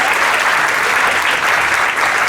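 A large audience at a school investiture ceremony breaks into loud, sustained applause, a dense wash of clapping that stays steady and close throughout with no voices rising above it.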